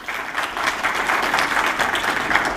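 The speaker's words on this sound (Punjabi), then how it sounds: "ਉਹਨਾਂ ਦੇ ਨਾਂ ਤੇ ਇੱਕ ਜ਼ੋਰਦਾਰ ਤਾੜੀਆਂ ਹੋ ਜਾਣ ਜੀ" An audience applauding at a Sikh commemorative gathering honoring the Saragarhi battle martyrs, a sustained wash of many hands clapping at a steady level throughout.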